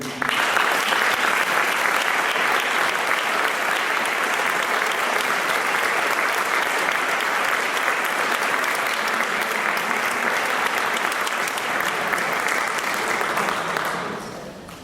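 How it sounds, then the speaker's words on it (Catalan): A large audience gives a loud, sustained round of applause to welcome two musicians on stage, dense even clapping that holds strongly for about fourteen seconds before fading out at the end. "José Antonio Ferrando i Salvador Caballé, amb un fort aplaudiment"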